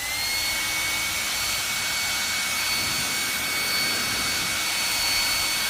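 A Xiaomi H500 hair dryer runs at speed 2 with a loud, steady, close-up blowing roar and a thin high motor whine, unbroken throughout.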